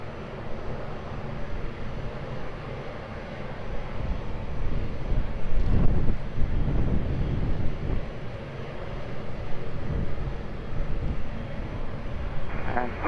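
Lufthansa airliner landing on runway 20 at Lisbon Airport, a steady broad engine roar at middle distance that swells around the touchdown midway through, then settles back into a continuous rumble.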